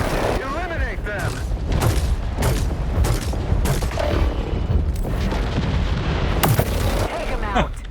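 Gunfire and heavy weapon bursts from the War Robots: Frontiers video game fire as rapid booming shots and explosions, loud and dense, with a voice talking over the combat.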